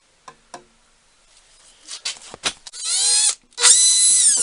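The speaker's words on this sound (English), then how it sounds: "Drill 2 holes here." A power drill in a machine shop bores two holes: a few light taps, then two loud, close whirring runs with a rising motor whine, separated by a brief pause.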